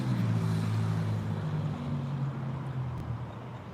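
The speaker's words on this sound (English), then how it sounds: "There's an engine sound in front of me that started when I got to the street." A car engine idles on a street at night, a low steady droning hum held close and fairly loud for a few seconds, slowly fading a little toward the end.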